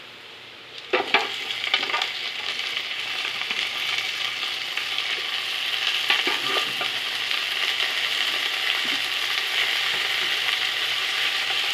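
Meat dropped into golden fried onions in a pot, setting off a loud burst of sizzling that settles into a steady, dense frying hiss with occasional stirring scrapes throughout.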